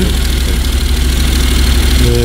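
Honda NC750X motorcycle engine idling nearby, a steady low throbbing rumble with an even pulsing rhythm, loud and alone without talk.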